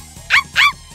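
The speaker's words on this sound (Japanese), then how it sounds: "子犬。" Puppy in a Japanese audio drama giving two quick, high-pitched yips in succession, close and clear, with a faint musical background beneath.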